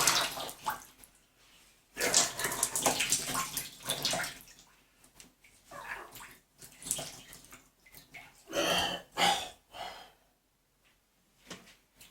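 Wet laundry wrung out by hand, water splashing and dripping in bursts, with pauses between squeezes, close and moderately loud.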